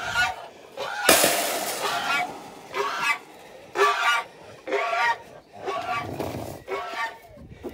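Goose honking among chickens during the merging of a backyard flock, loud repeated honks in bursts of about a second with short gaps, close by, with other fowl calls mixed in.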